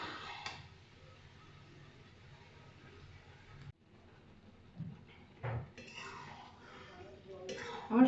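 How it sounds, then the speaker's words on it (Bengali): Soybean chunks being stirred and fried with spices in a pan, with quiet sizzling under occasional clinks and scrapes of a utensil against the pan, which get louder toward the end. "এবার সয়াবিনগুলোকে আমি ভালো করে মশলার সাথে মাখিয়ে আরও আমি 5-10 মিনিট কষিয়ে নেব।"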